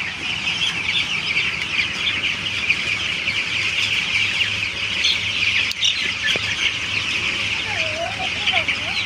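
Young broiler chickens held on a farm before moving to the shed keep up a dense, continuous clucking and chirping chorus, with a voice briefly audible in the background.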